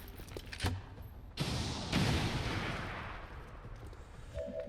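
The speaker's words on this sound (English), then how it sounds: "Let's go and shoot our rocket" A rocket launch from XCOM Long War of the Chosen: a sharp thump followed by a booming blast and rushing roar that slowly fades, with faint clicks before it and a small electronic tone near the end.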